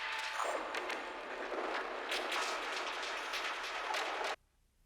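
Glitchy layered sound-design effects from Shaperbox and glitch plugins: dense stuttering noisy bursts and crackles running continuously for over four seconds, loud and up front, then cutting off abruptly into near silence.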